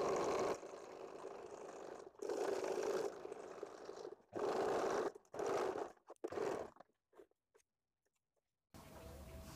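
Sewing machine stitching a lace blouse, several loud whirring runs of a few seconds each separated by short pauses, then quiet before a final run.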